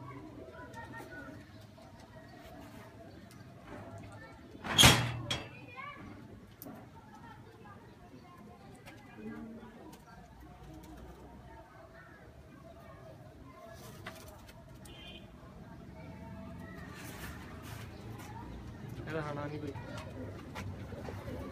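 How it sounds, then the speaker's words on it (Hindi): Soft coos from Teddy pigeons drift in and out over a quiet outdoor background, with a sharp knock partway through and people talking nearby. "लो जी है टैडी कबूतर"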